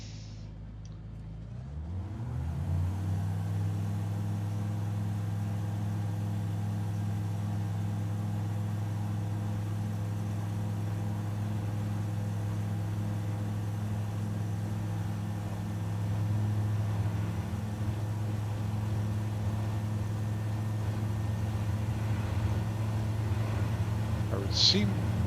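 A seaplane engine in Microsoft Flight Simulator during a takeoff run on water, a steady droning hum that rises after a couple of seconds and holds, with someone talking over it throughout.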